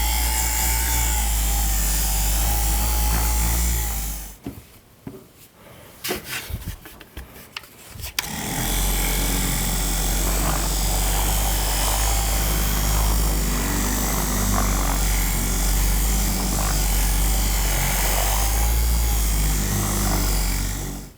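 A powered buffer polishing a wood finish to a high gloss, a loud steady whirring drone that drops away briefly for a few seconds midway and then resumes, with no talking.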